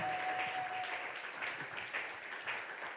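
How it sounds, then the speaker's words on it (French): A church congregation at a French-English sermon applauds with a dense, continuous clatter of many hands clapping together, sustained and fairly loud throughout. "I would like you to put your hands together for the Lord"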